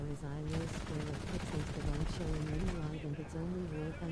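A Soviet vehicle fires in War Thunder in rapid automatic bursts, a dense stutter of shots with short pauses between bursts and a tonal engine drone underneath, at moderate level.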